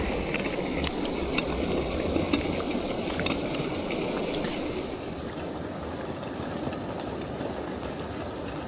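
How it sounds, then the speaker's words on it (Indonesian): Sardines boiling in a pot at a solo forest campsite, a steady dense bubbling and hissing simmer that stays close and even throughout, with faint higher crackles above it and no talking. "wah, sardennya udah mendidih cuy."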